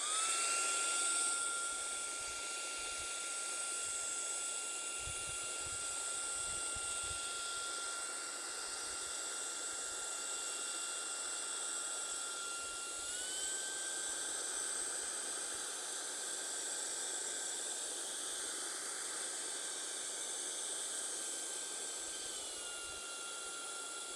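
A portable camping and vehicle vacuum run in blower mode over sand and small rocks produces a steady high-pitched motor whine with airy hiss, continuous and fairly close with a slight pitch shift partway through.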